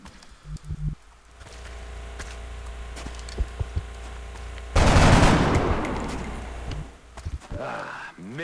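Troops firing in XCOM: a quiet hum with scattered sharp clicks, then a sudden loud burst of rattling gunfire and debris that fades over a couple of seconds, followed by more scattered clicks.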